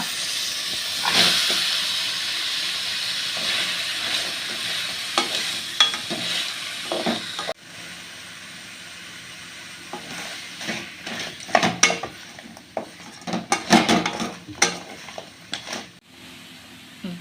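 Crab pieces stir-fried in a pan for a Mangalore-style crab sukka, giving a steady loud sizzle and hiss with scraping stirs and clattering bursts, no voices over it.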